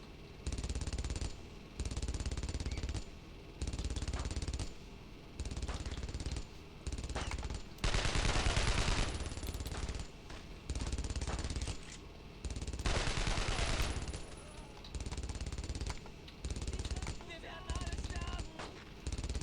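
MG42 machine gun fire in the video game Brothers in Arms: long, dense, loud bursts of rapid automatic gunfire broken by short gaps, with brief talk faintly under the shooting.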